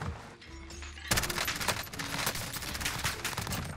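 Gunfire in the Warzone video game: after a quiet start, a sudden dense burst of rapid shots rattles on steadily for a few seconds, loud and close, with no speech.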